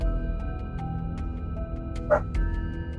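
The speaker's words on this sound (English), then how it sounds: "My dog is wants some attention" A pet dog barks and yips for attention, a few short sharp sounds over a steady tonal background, with one louder whimpering yip near the end.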